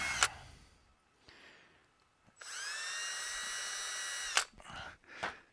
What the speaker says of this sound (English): Just pre-drilling some holes here.